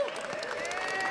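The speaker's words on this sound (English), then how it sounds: "Please bring up with a warm round of applause from the House Republican Caucus" Brief applause from a House Republican Caucus audience at a news conference, steady clapping heard alongside a sustained tonal hum.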